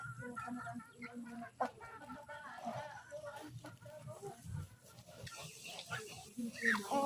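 Chickens cluck and squawk nearby in a busy farmyard with ducks, irregular calls overlapping, with voices talking among them during evening feeding.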